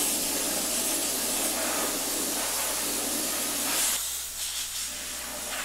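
Epoxy primer is spray painted onto widened steel wheels as a steady, loud hiss that runs without a break and eases slightly near the end, with no talk.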